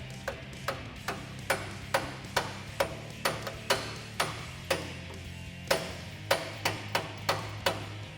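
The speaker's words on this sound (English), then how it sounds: "just give it a little tap with a hammer" A hammer taps a Steinjager adjustable chrome moly track bar into the axle-side mount on a Jeep Wrangler JK, about twenty sharp metallic knocks in a fairly steady rhythm, close and clear.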